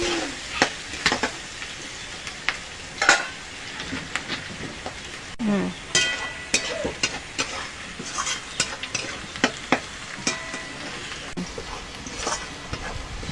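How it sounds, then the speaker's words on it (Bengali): Chopped garlic and onion fry in a pan for a desi chicken curry, giving a soft continuous sizzle broken by irregular scraping clicks of stirring. "এবার এটা ভেজে নেব। পেঁয়াজটা মাঝে মাঝে নাড়িয়ে দেবো।"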